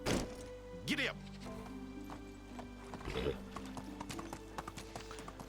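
A horse in the medieval game Medieval Dynasty clip-clops at a steady pace close by, with a neigh near the start and a few thuds, while people talk over it.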